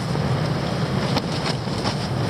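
Strong storm wind buffeting a camping tent in a forest near the sea, a loud continuous roaring rush with fabric flapping and buffeting in gusts, close and alone.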